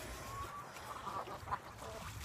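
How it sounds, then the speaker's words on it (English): Muscovy ducks near water give soft, faint honks and hisses, a few scattered calls spread over a couple of seconds against a quiet outdoor background. "Muscovies are in the water."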